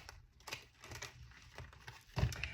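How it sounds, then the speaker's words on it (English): A deck of tarot cards is shuffled in soft, quiet bursts of papery riffling and tapping, faint and close, with no speech. "I want to shuffle the deck"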